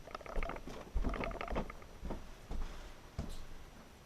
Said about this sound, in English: This is what I use, a wood rasp.